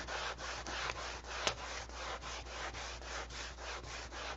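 Sandpaper rubs back and forth across a wood surface between finish coats in a steady rhythmic scrape, about three strokes per second, close and fairly quiet.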